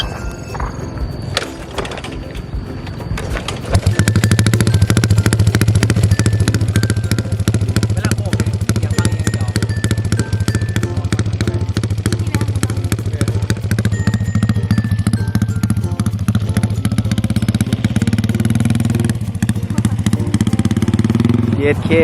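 A Honda Wave 110 motorcycle with an aftermarket exhaust pipe starts after a few seconds of clatter, then runs loud and close in a steady, rasping idle that holds to the end, with people talking over it.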